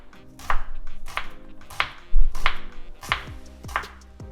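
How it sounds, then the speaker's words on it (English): A knife chops a shallot on a cutting board in six evenly spaced, crisp, close strokes. "a nicely chopped shallot"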